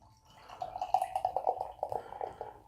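Tart cherry Berliner Weisse beer glugs steadily from a bottle into a glass, a close, bubbling pour with rhythmic gurgles that swell and then ease off.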